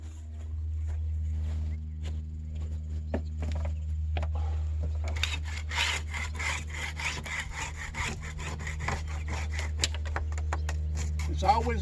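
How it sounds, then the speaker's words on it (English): Paint scraper rasping off loose, flaking paint ahead of caulking and repainting, with a steady low hum underneath; the scraping gets busier and more textured in the second half, with repeated short strokes. "let me scrape this down."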